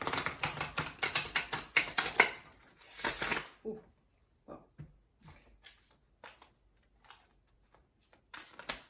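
A deck of thick Tattoo Tarot cards is shuffled by hand, a rapid close riffle of slaps and flutters followed by sparser taps and shuffles, with brief exclamations from a voice.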